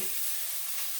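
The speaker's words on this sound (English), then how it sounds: "what we need to do is saute the mushrooms" Thick-cut mushrooms sautéing in a hot pan, a steady close sizzle and hiss that holds for a brief moment with no speech.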